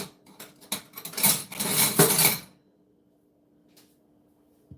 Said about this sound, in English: I'm going to mush that down a little bit too with a spoon